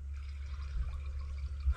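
Water running down a freshly cleared drain line, a steady low rushing flow heard close, with a brief gurgle near the end.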